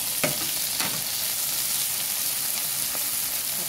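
Chopped tomato and onion fry in a hot pan, giving a steady, bright sizzle close by, with a few soft stirring scrapes breaking through the constant hiss.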